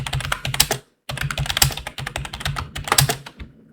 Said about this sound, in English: All right, sticky keyboard.